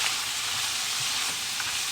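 Frozen lima beans cook in a hot pan with a steady, dense hiss of frying that stays even and close throughout, with a faint crackle now and then.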